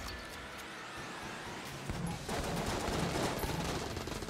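Rapid gunfire from the video game Enter the Gungeon rattles as a dense, continuous barrage. It grows louder and busier after the first couple of seconds.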